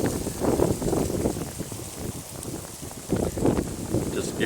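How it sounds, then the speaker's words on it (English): Outdoors beside a Mercedes E350, gusty wind buffets the microphone in rumbling low bursts that rise and fall, with quieter lulls between the stronger gusts. "pretty windy out here today"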